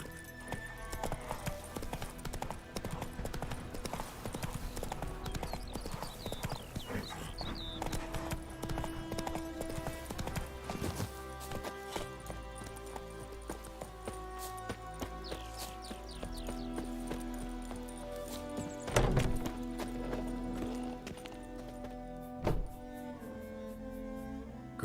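Horse hooves clip-clop steadily through The Witcher 3, the rhythmic footfalls running throughout over a busy backdrop of game music and ambience, with occasional louder thumps and a brief whinny-like sound.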